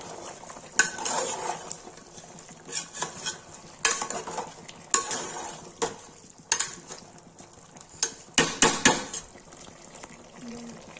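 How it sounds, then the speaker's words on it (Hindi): A spoon scrapes and clinks as chicken is stirred in a pan with red chili powder and turmeric, with sharp intermittent strokes over a soft sizzle and someone talking in between. "गाइस ये चिकन हो गया, इसमें डालेंगे लाल मिर्च, डालेंगे हल्दी, तो चला देंगे।"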